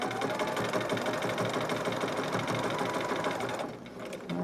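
A sewing machine runs steadily, stitching fabric for a dragon or unicorn hood in a library sewing class, with a dense, continuous whir that eases slightly near the end.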